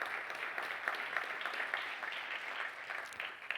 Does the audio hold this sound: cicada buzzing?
no